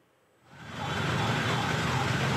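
Fire engine siren wails amid heavy traffic rumble near a burning rectorate building at a university campus in Ciputat, South Tangerang, rising in quickly and staying loud and steady.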